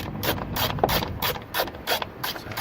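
A ratchet tightens the 14mm top strut bolts on a 2004 Nissan Sentra 1.8 during rear strut replacement, making rapid, close, rhythmic clicks in quick bursts of back-and-forth strokes.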